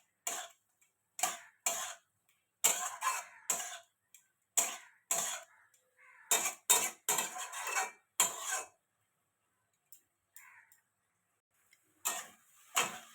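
Water spinach stir-frying in a pan with turmeric: a spatula scrapes and tosses the greens in short, irregular bursts of close, dry scraping, with brief pauses and no talking.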